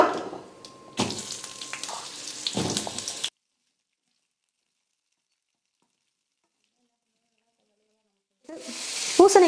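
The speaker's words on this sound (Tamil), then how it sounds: "இப்போ இந்த பூசணிக்காவை சேர்த்துடுறேன்." Cut and rinsed pumpkin pieces go into a hot pan for a Tamil-style stir-fry, bursting into loud sizzling and stirring for a few seconds before silence, then sizzling again at the end.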